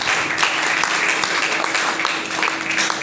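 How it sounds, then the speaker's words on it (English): An audience at the grand finale of a teaching reality show in Lagos gives a round of applause, dense and continuous clapping with a few sharper individual claps standing out. "Can I have a round of applause,"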